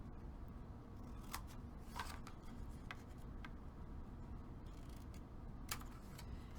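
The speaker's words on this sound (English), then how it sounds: "you can either cut out the squares or you can cut it at an angle" Paper squares being cut with scissors for a Christmas memory box, faint sharp snips spaced irregularly over a low steady background hiss, quiet and close with no voices.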